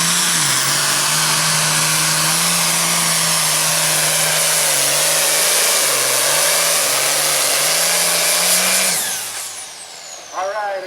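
A tractor engine roars at full power during a county fair tractor pull run, one loud, steady, close drone that holds for about nine seconds before cutting off sharply.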